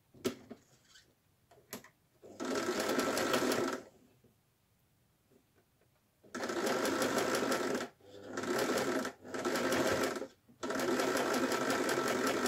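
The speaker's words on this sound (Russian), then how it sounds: "поэтому я спокойно притачиваю" Sewing machine stitching patchwork strips in short bursts, a rapid steady rattle that starts and stops several times with quiet gaps between runs.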